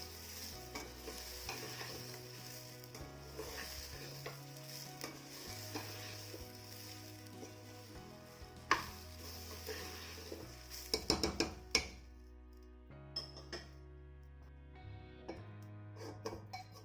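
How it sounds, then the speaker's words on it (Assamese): Rice fries in refined oil in a pan over low heat, a soft steady sizzle broken by scraping stirs and a few clinks of the utensil against the pan, quiet and close. "চাউলখিনি কম জুইত মই অলপ সময় ভাজি ল'ম।"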